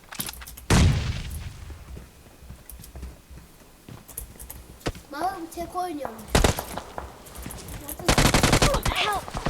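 Bursts of gunfire in the mobile battle-royale game PUBG Mobile, loud automatic volleys at the start, middle and end with quieter shots between, under players talking over voice chat.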